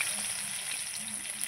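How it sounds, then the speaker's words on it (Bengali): Pomfret fish frying in oil gives a steady, close hiss and crackle of sizzling across the whole brief moment, with no voice over it. "এই যে দুটো লাল লাল করে ভেজে নিয়েছি।"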